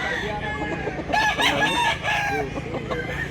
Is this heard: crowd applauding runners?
no